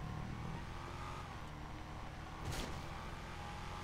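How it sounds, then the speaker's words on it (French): A 4x4 off-road vehicle drifting in a parkour driving video game, its engine droning steadily throughout with a brief louder burst of tire or surface noise midway; no talking. "En plus, le véhicule drift."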